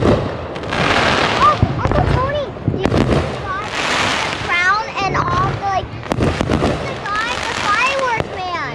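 Fourth of July fireworks bursting outdoors at a backyard show, repeated booms and crackles with whistling rockets rising, fairly close and loud, under scattered talk from onlookers.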